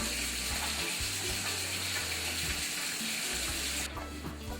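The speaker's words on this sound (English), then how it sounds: "Let's go wash our hands." Tap water running into a sink while hands are washed, a steady close rushing splash with shifting gurgles, cutting off near the end.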